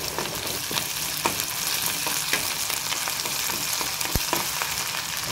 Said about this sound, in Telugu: దాంట్లో ఉన్న పచ్చివాసన అంతా పోయే వరకు బాగా ఆయిల్లో ఫ్రై చేసేసుకోండి.